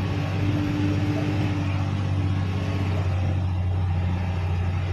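Steady low rumble of idling engines in a long traffic jam of cars and trucks on a Quezon Province road, a continuous near drone with a faint hum throughout and no clear talk.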